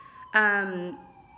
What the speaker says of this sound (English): sorry about the sirens, you guys.